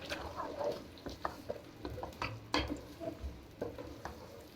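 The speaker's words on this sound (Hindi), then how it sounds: "इधर हमने ऑयल गर्म होने के लिए रख दिया था तो प्याज डाल दिए।" Onions frying in hot oil for kadhi pakora, a soft, faint sizzle with intermittent scrapes and light taps of a spoon stirring in the pan, quiet and close with no voices.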